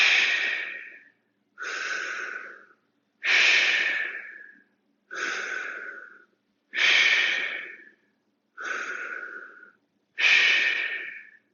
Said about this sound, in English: And let's hold for 4 deep breaths.